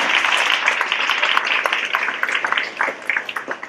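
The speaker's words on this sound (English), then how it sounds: "I would like for you guys to give yourself a big round of applause" Audience applause at a student leadership awards ceremony, a sustained crowd of hands clapping that holds strong, then thins into more distinct individual claps toward the end.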